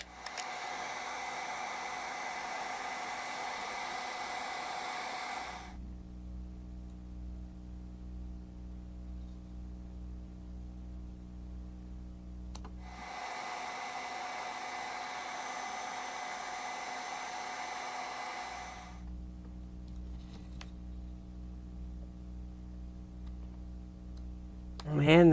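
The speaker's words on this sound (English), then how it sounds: "So I'm going to use just a hair dryer." A hair dryer blows in two long steady runs, heating decals on an old 1980s toy robot. Quieter hum and ticking fill the gaps between runs.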